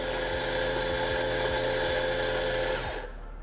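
A coffee grinder purging grounds after a grind adjustment, a steady loud motor whir with a faint rhythmic ticking running through it, which winds down and stops just before the end.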